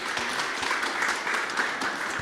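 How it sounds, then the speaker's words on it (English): Conference audience at a startup demo day applauds a presenter, dense continuous clapping at even loudness for a couple of seconds, with no voices standing out. "Congratulations and applause to Raresh."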